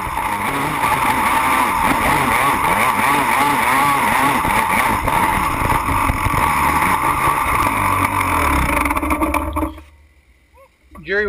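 Yamaha 250R and Banshee quad engines hill climbing on steep Florida hills, loud revving two-stroke whine rising and falling continuously up close, then cutting out abruptly near the end with a brief faint tail.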